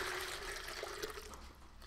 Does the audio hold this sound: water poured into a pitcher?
yes